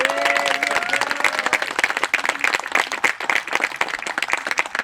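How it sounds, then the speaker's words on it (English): An outdoor crowd at a water system groundbreaking ceremony claps in a dense burst of applause, loud and sustained, with a brief voice near the start. "Can we give Rio Dell a round of applause?"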